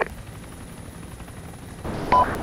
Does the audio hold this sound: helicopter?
yes